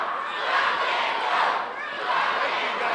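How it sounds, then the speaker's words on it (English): A pro wrestling arena crowd roars in a broad, sustained wave of cheering and shouting that rises and falls slightly over a few seconds. "And this crowd has erupted again."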